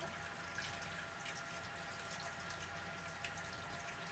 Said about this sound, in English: and when I pour the water in, I'm just kind of like pushing the seasonings down in it.